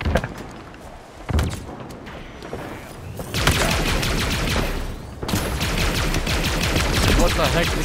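Dense bursts of rapid automatic gunfire and single heavy shots in Halo Infinite online multiplayer, loud and close, with thuds between volleys and brief pauses in the shooting.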